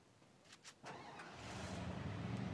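A car in a Free Fire–style shooter game: a few sharp clicks and thuds, then the engine starts and settles into a steady, rising rumble that carries to the end, with no talk over it.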